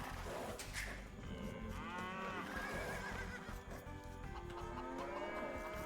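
Cattle in the video game Age of Empires II moo repeatedly in drawn-out, wavering calls, loud and close, with several overlapping moos layered over steady game ambience and no talk.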